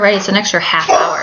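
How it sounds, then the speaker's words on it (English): A pet dog named Scout barks and yips indoors, the sharp barks overlapping a person's continuous talking. "Nope, that's my dog."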